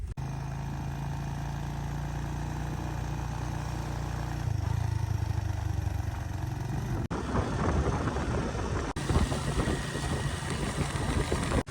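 A motorcycle with a broken electric self-starter is kick-started by hand: a low idle hum steps up in pitch as the engine catches, then clattering, revving engine noise follows with a couple of abrupt breaks.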